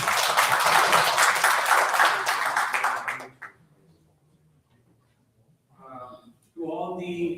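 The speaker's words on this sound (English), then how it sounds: "Please give him a huge round of applause." A conference hall audience at IEMECON 2025, an engineering conference at UEM Jaipur, claps in a dense burst of applause for about three seconds that fades to quiet before a voice speaks.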